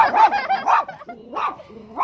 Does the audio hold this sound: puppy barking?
yes